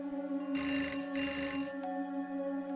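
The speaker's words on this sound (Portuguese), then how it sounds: "Ainda hoje, às vezes, o telefone do turno toca exatamente às 2h13." An old-style telephone bell rings in two sharp, close bursts with a short gap between them, over a steady low hum, with no talk, in a hospital horror story setting.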